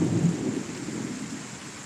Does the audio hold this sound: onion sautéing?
no